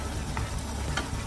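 Potato curry being stirred in a pan after garam masala goes in, a soft scraping swirl over steady sizzling, with a couple of brief spoon knocks in one short pass.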